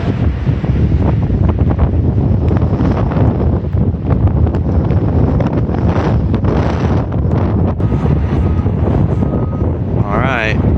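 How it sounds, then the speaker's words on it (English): Strong wind buffets the microphone in a loud, continuous roar beside a loaded log truck on a snowy road, with a brief whistling tone near the end. "Man, it's windy."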